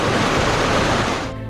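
A rushing mountain stream in snow leopard country pours in a loud, dense, continuous hiss and roar of turbulent water up close, easing off slightly right at the end.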